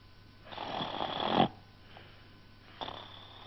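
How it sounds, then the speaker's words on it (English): A cartoon character snores in a children's animated story: two slow, close, breathy snores, the first long and rising to a rasping peak, the second shorter and softer, with no talk over them. "Listen to him snore,"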